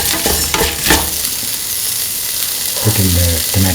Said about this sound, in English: Mix that in.